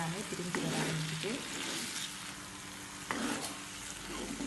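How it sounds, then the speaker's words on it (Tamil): Bilimbi fruit curry sautéing in oil over a moderate flame, a soft continuous sizzle with occasional stirring clicks, fairly quiet and close. "நிமிஷத்தில் நல்லா வதங்கி பாருங்கள், எண்ணெய் எல்லாமே பிரிஞ்சு வர ஆரம்பிச்சுட்டு."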